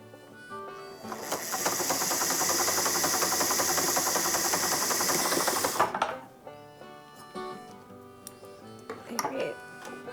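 Sewing machine stitching quilt block pieces for a pinwheel block, a loud rapid mechanical run lasting about four seconds before stopping, followed by quieter handling clicks and rustles.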